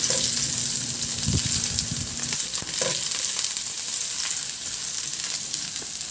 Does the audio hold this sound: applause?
no